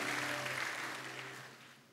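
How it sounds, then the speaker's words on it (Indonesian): A church congregation applauds during a sermon, a broad wash of clapping over a low sustained organ tone that fades out gradually. "boleh kasih tepuk tangan yang paling luar biasa"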